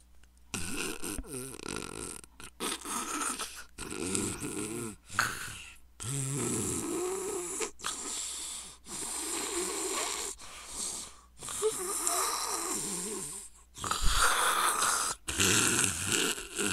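A voice repeatedly imitating snoring close to the microphone, a string of rough, rattling snorts and wheezy breaths separated by short pauses.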